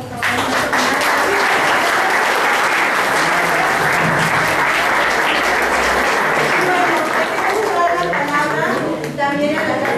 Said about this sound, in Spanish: Bueno, pues un aplauso por favor